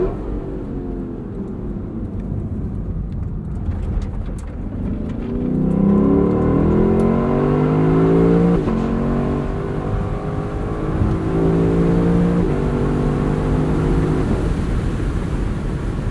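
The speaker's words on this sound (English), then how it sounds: "What you really want to hear is this exhaust." The exhaust of a 2022 Lexus LC sport rises and falls through several close, loud revs. Its throaty drone climbs in pitch with each blip over a steady idle rumble.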